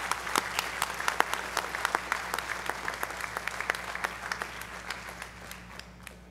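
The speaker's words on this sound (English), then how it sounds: "let's give Coach Shafer one more round of applause." A school hall audience at a high school athletic hall of fame induction applauds steadily and loudly for an honored coach, a dense unbroken round of clapping throughout.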